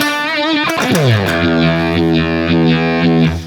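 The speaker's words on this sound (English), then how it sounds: "we got the Marshall. We add a little reverb. We add the fuzz face. And then we add the Univibe." Electric guitar played through a Marshall amp with a little reverb, a Fuzz Face and a Univibe, giving loud, thick distorted sustained notes with a sliding bend and a warbling, pulsing modulation, alone without talk.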